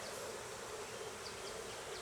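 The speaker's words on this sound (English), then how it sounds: "this one's got more bees in it. I heard them buzzing" A steady, dense buzzing of many honeybees in a hive box, close by and continuous, with a soft hiss beneath and no voices.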